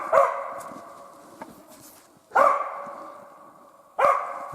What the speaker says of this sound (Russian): Где он лает-то?